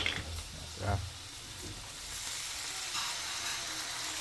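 Chopped garlic sautéing in a pan for a tilapia dish, a steady close, broadband sizzle with a couple of louder stirring scrapes near the start and no talking.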